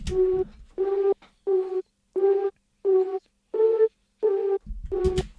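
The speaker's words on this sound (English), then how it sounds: "I kind of process the original synth with a little bit of this processing." A breathy, flute-like processed synth lead from a lo-fi drum and bass track plays a steady melody of evenly spaced notes with short gaps, bracketed by brief bits of sound at start and end.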